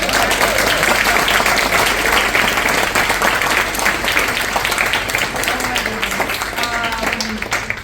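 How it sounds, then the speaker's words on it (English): A live audience applauds after an arts conversation event with an artist and a comedian. Steady, full clapping with cheering continues throughout and eases slightly toward the end. "Big round of applause."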